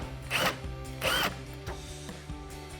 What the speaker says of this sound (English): grab your 10mm socket and remove the other bolt up top on the headlight